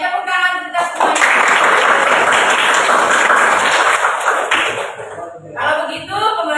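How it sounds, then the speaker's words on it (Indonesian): A group in a class session breaks into steady applause, a dense, loud wash of many hands clapping for about four seconds, with a voice speaking before and after. "Oke, tepuk tangan kita semuanya."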